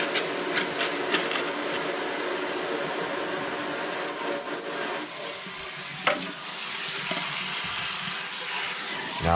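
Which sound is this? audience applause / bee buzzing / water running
water running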